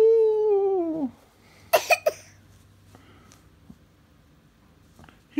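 A child coughs in a quick burst of three sharp coughs after a sung or drawn-out vocal tone, then quiet follows, with a faint cough-like sound at the very end.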